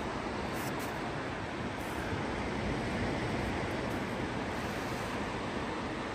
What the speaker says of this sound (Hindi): बहुत खूबसूरत लहरों की आवाज़ें आ रही हैं।